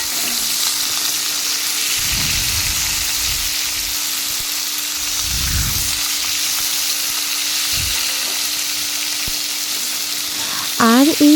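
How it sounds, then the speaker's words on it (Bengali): Vegetables frying in oil with whole cumin seeds, a loud continuous sizzle with a few louder stirring surges and scrapes, a steady hum underneath and no talking. "আবার ওই তেলের মধ্যে আরও একটুখানি তেল দিয়ে তার মধ্যে গোটা জিরে দিয়ে এবার আমি সবজিগুলোকে ছেড়ে দিলাম"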